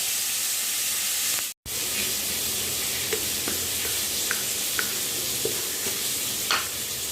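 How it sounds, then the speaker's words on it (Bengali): Vegetables frying in oil in a kadai give a steady, loud sizzle with occasional stirring clicks and scrapes, broken by one brief gap in the sound. "এখানে মনে হলো আর একটু তেলের প্রয়োজন, তাই জন্য তেলটা কড়াইতে ঢেলে দিলাম। এখন এগুলো ভাজা ভাজা হোক"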